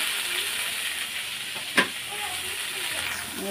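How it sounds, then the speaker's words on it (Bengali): Sliced potatoes fry steadily in a pan, giving a continuous soft sizzle and hiss with one brief sharp clatter partway through, close by with no talk. "আলুগুলো একটু লাল লাল করে ভেজে নেব"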